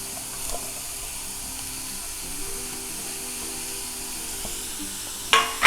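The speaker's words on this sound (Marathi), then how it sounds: "हा कांदा ना मी परसून घेणार आहे चांगला म्हणजे ह्याच्यातलं पाणी आहे ना ते सगळं गेलं पाहिजे" Onion dry-roasts in a pan without oil, giving a steady, soft, close sizzling hiss throughout, with a short clatter of utensil sounds at the very end.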